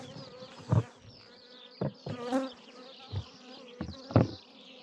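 Steady buzzing of many honey bees swarming close around hives, a dense droning hum with several louder passes as individual bees fly near.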